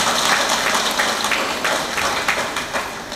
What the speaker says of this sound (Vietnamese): chúng ta có một tràng pháo tay để cảm ơn anh chị ban phần